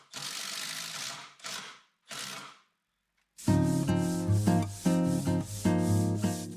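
Wood furniture is hand sanded in three short, rough, scratchy strokes, then a louder patterned rhythmic mechanical rattle takes over.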